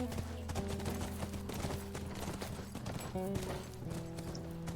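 A horse's hooves clip-clop steadily in the video game The Last of Us. The footsteps sit under a continuous bed of game music and ambience.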